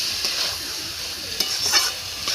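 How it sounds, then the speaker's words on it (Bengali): Banana stem with soaked chana dal and potato stir-fried in spiced oil, a close soft sizzle with scraping stirs of a spoon, no voices. "এটাকে ভালো করে কষে নেব"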